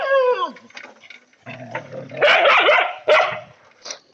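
A dog barks in several sharp bursts close by, with yips and a growly edge between them, loud and alone without talk.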